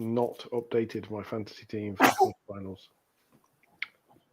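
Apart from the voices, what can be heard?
sneeze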